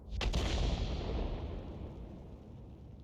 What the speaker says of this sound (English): Fires blind.